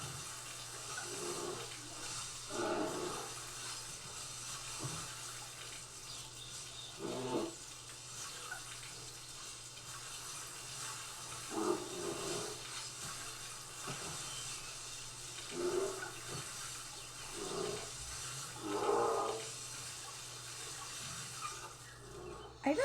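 In the Zoo Tycoon video game, water sprays at bears in repeated hissing, splashing bursts that recur irregularly over a steady electronic hum, with no talking.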